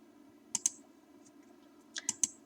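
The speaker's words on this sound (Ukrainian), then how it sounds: "Натискаю Enter." Computer keyboard keys clicking quietly, with a quick pair of presses followed a moment later by a short burst of three, set against a faint steady hum.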